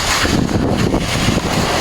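Strong typhoon wind roars steadily and loudly throughout, a constant buffeting rush with gusty low rumble close to the microphone.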